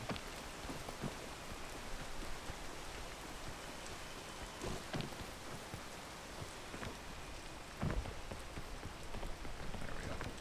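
Steady rain falls in a video game, a continuous dense hiss of drops on surfaces with a few louder spatters, moderately loud and without any voices.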